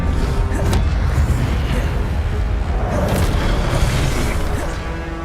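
A fire spell cast in the Hogwarts Legacy video game, heard as a loud, sustained roaring burst with crackling booms that carries steadily for several seconds before easing off slightly at the end.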